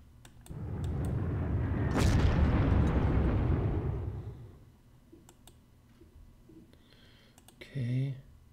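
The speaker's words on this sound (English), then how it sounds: "Let's bomb it." A bombing explosion in the Panzer Corps strategy game, a broad rumbling blast that swells for a few seconds then fades, followed by quieter clicks and a brief interface sound near the end.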